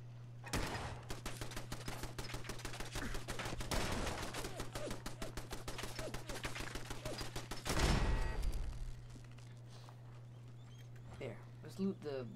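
Machine gun turret in Fallout 4 fires a long rapid burst of gunshots, then a loud blast and a few scattered sounds, with people talking over the shooting.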